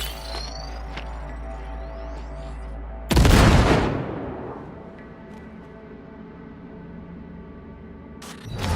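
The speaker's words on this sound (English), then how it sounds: "Now, detonate the grenade." In the Cyberpunk 2077 game, a grenade detonates with a sudden loud blast that booms and rumbles, then fades over about a second and a half, set against a steady low hum and faint game ambience.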